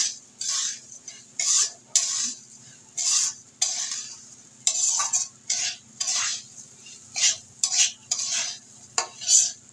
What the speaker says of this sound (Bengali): এবার ভালো করে আমি সমস্ত কিছু মিশিয়ে নেব